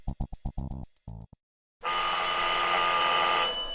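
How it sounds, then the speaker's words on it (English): An old-fashioned telephone bell used as a radio drama effect gives several short bursts of ringing. After a brief pause a loud, sustained tonal blare follows. "the ringing of that phone bell means mystery, adventure"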